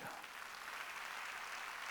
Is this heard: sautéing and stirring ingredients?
no